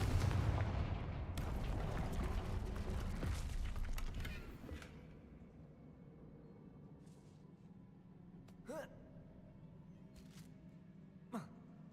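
A Confringo fire spell in Hogwarts Legacy lets off a heavy rumbling blast that fades over several seconds, followed later by two faint, sharp impacts.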